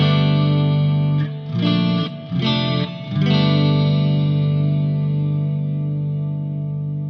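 Electric guitar through the reverb of a Line 6 HX Effects pedal, a few distorted chords struck in quick succession and then one left ringing, its tail slowly fading in a lingering wash.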